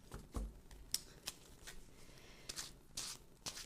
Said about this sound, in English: I'm just shuffling up my cards here.